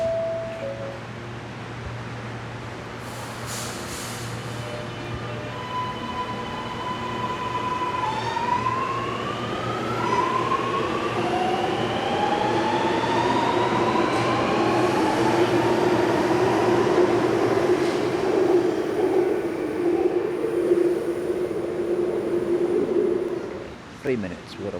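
A Sydney driverless metro train accelerates away after its doors close, its motor whine rising steadily in pitch over a loud rumbling hum, with a brief tone at the start.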